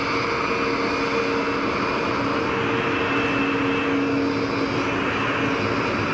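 An Icelandair airliner taxiing at Geneva Airport, a steady mid-distance engine whine and rumble holding level throughout with no voices.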